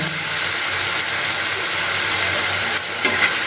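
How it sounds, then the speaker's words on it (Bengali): Masala paste and chopped tomatoes fry in a pan for a Bengali dhaniya chicken, giving a steady, close sizzle and hiss with a brief scrape of stirring near the end and no talking. "দিয়ে একটু নাড়াচাড়া করে নিচ্ছি মশলাটাকে খুব ভালো করে কষিয়ে নিতে হবে"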